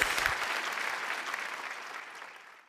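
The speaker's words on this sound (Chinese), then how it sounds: "掌声在哪里？" Audience applause at a Tibetan song concert for a singing performance, a full burst of clapping that starts strong and slowly fades over a few seconds, with no voices over it.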